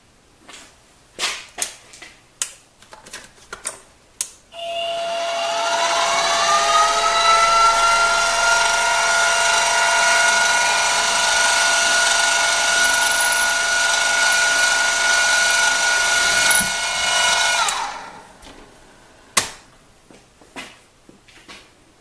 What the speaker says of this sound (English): we've got to go in and drill a hole and thread it for the nipple to screw into